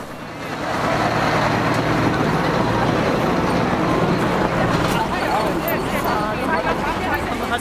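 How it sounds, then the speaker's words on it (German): Trucks driving past in a cleared stretch of forest: a continuous loud rumbling roar of heavy vehicle traffic close by, swelling and holding steady throughout, with a voice talking over it. "Auch an diesem Samstag fahren hier Lastwagen."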